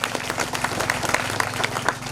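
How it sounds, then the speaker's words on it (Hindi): A village audience at a school award ceremony in Bihar bursts into loud applause, many hands clapping close by in a dense, slightly pulsing rhythm for the whole moment. "इसलिए संतोष सर के लिए जोरदार ताली हो जाए।"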